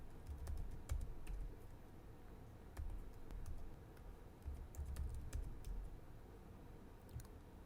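Python code being typed on a computer keyboard: quick, irregular clicking keystrokes in short bursts with brief pauses, close and fairly quiet, no voices.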